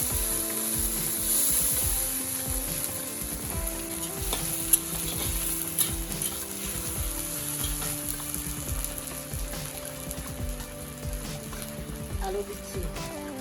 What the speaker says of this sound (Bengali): পেঁয়াজ রসুন আদা ও কাঁচা লঙ্কা দিয়ে দেওয়া হলো এবার ভাজা হচ্ছে